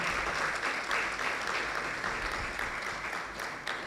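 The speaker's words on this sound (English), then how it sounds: "Another round of applause, ladies and gentlemen" An audience claps steadily at a media and communications review launch, a dense, fairly faint wash of hands that holds level throughout.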